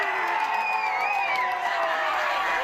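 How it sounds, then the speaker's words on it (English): A crowd at Barrett's waterfront in Fall River cheers and whoops continuously as Mayor Jasiel Correia arrives on election night, a dense, steady roar of voices with high shouts rising above it. "Mayor Jasiel Correia entering Barrett's waterfront to a crowd full of cheers and hugs"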